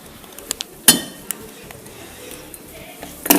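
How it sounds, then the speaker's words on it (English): A utensil stirs melted soy wax for homemade candles, giving off a few light clinks and scrapes against the container that come close and scattered, with one sharper knock near the start and another near the end. "So I just did the wax there, and we need to give it a stir"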